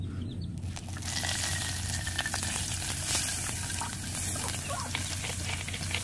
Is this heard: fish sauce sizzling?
yes